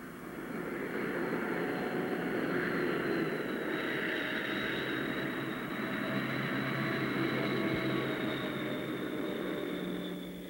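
Airliner engines run steadily at an airport, a sustained broadband roar with a whining tone above it, holding constant and fairly loud for the whole stretch with no talk.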